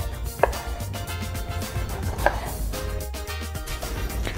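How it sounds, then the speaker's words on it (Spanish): St. Louis ribs being cut apart into individual bones, with a couple of sharp knife chops on a board amid softer cutting and handling noises, close and without speech. "voy a partir esta costilla de San Luis, la voy a separar en huesos, separar de uno en uno"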